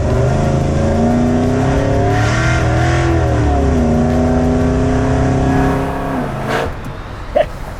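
A Chevrolet Tri-Five pro-touring build with a 4L85E automatic accelerates hard, its loud engine note climbing in pitch through rising gear pulls and dropping between shifts, close and steady before easing off near the end.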